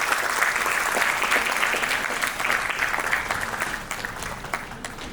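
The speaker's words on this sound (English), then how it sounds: "A big round of applause." An audience at a university alumni meet applauds as a speaker is called to the stage, dense clapping sustained and loud, gradually easing toward the end.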